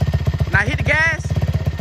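A Honda TRX450R quad engine rumbles in a fast pulsing idle, then briefly revs up twice as throttle is applied before dropping back, loud and close, with a voice over it.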